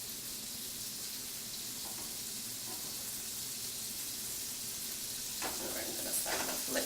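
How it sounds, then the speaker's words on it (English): Shrimp seasoned with cayenne pepper sizzle steadily in a hot pan, a continuous soft hiss with a few faint clinks and stirring sounds near the end. "So it's sizzling nice."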